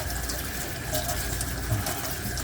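A hand water sprayer hisses steadily and continuously, close up, while rinsing dirt and dust off freshly harvested pineapple sage stems, with no talk over the even spray.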